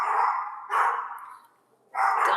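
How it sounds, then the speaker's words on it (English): Dogs bark close and loud in three long, drawn-out bursts, with a brief pause before the last one. "What are you barking at?"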